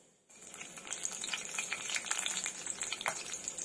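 Cumin seeds and garlic frying in hot oil on a low flame for a red pumpkin vegetable dish, a steady close sizzle with crackling pops that starts abruptly and continues throughout.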